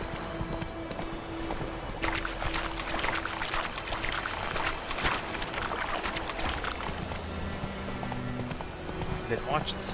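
Horse hooves clip-clop in The Witcher 3, a steady rhythmic stream of hoofbeats over game ambience and music, with occasional water-like pouring in the background.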